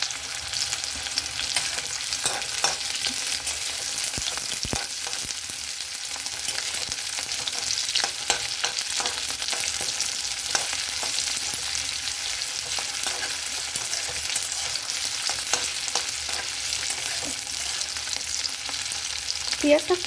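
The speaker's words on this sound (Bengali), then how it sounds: "পেঁয়াজটা একটু লাল লাল করে ভেজে নিতে হবে" Sliced onions fry in hot oil for mutton biryani, a steady loud sizzle that runs without a break, with occasional stirring scrapes and no talking.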